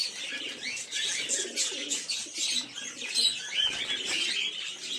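Giribaz pigeons in a loft, cooing softly and flapping their wings in steady, overlapping bursts close by, with a busy chatter of calls and wingbeats throughout and no talking.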